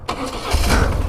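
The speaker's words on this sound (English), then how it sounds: "Fire the old bike up." An old motorcycle is started on a mountain road: a quick crank, then the engine catches and settles into a low, throbbing idle, close and fairly loud, all within about a second.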